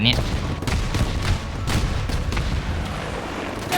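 Battlefield 2042 combat: dense bursts of in-game gunfire and heavy booms rolling continuously at close range, with a player's voice talking over the shooting.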